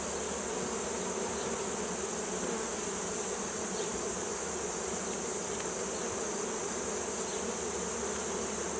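Honey bees swarm around an open hive, a dense, steady buzzing drone that fills the air evenly with no pauses, close and loud.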